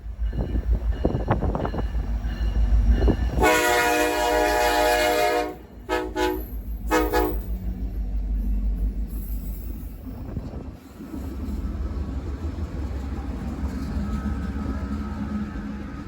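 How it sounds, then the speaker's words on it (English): BNSF diesel locomotive leading a freight train on the L-153 turn, horn blasting loudly with a sustained harmonic chord, then broken bursts over heavy engine rumble and rolling wagon noise that continues steadily. "L-153 returned, now with 2 additional locomotives"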